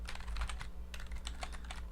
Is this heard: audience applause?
no